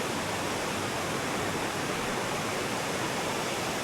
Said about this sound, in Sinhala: මේ මෙතන පොඩි ඇල්ලක් තියෙන්නේ.